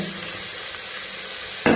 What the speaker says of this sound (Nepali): मिट हालेर फेरि तपाईँले यसलाई 10-15 मिनट चाहिँ भुट्नुपर्छ है मजाले